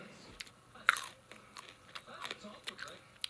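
Crunchy green beans being chewed close up, with several distinct crisp bites and crunches spread over a few seconds against a quiet background.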